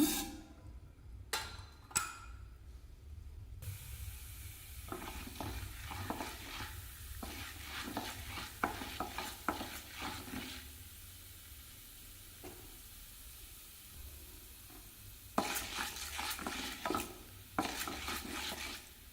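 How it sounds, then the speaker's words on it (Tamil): Urad dal fries in hot oil with a steady low sizzle, broken by bursts of spatula scraping and clinks against the pan, close and moderately quiet. "எண்ணெய் சூடாயிடுச்சுங்க உளுந்து சேர்த்துக்கலாங்க"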